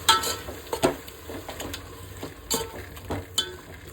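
Palav masala being stirred in a hot pan, a soft continuous sizzle under repeated scraping strokes and a few sharp clinks of spoon against metal, close and moderately quiet with no talking.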